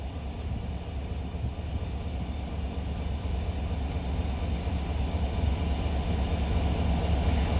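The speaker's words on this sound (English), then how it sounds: "Still waiting on personnel to get in to move this locomotive." A Norfolk Southern diesel locomotive idles at Duluth, Georgia, giving a steady, loud, low rumble with a constant engine drone that holds throughout without pause or change.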